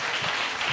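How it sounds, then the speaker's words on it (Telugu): A church congregation applauds during a sermon, a brief, soft wash of many hands clapping at a distance. "కొట్టాలి చప్పట్లు"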